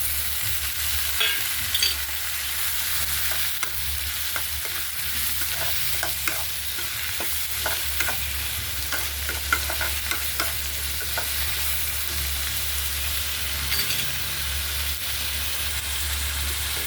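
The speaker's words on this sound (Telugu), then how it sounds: "ఉల్లిపాయలు బాగా మగ్గాలి." Onions frying in a pan for a Telugu egg curry, a steady low sizzle with scattered scraping and stirring clicks from a utensil against the pan, fairly quiet and uninterrupted.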